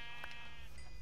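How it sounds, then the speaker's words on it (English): A single sheep bleat from the Minecraft video game, a short nasal cry sitting over a steady, fairly loud background hum. "Okay, so I'm killing sheep."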